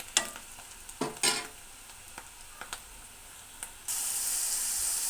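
Curry leaves dropped into hot oil for tomato curry, giving a few crackling pops and stirring taps before a steady hiss of frying rises near the end, close and fairly quiet.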